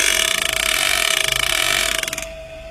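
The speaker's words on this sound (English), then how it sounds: "Watch the tape and listen to the card." A card flaps steadily against a spinning drive shaft whose U-joint sets up torsional and inertial vibration, giving a loud, fast, even ticking that runs on and then fades near the end.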